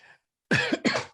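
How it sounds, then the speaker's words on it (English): A short cough, then a louder double cough in quick succession, close and alone. "My thought was so thought-provoking that I had to cough."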